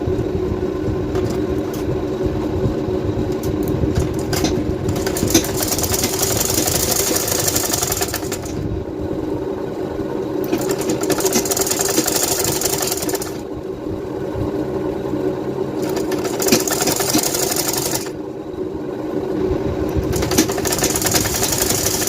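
A sewing machine stitches lehenga blouse fabric in a loud, steady mechanical whir. It runs in long continuous stretches broken by a few short pauses.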